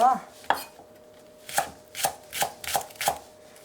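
A knife chops green onion on a cutting board in crisp, separate strokes: one early hit, a pause, then five evenly spaced chops, close and clear with no talking.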